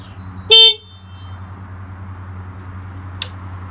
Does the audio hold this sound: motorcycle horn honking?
yes